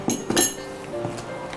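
Spoon clinking against a bowl while cocoa powder is mixed into marble cake batter, a few sharp clinks early on followed by softer scraping stirs.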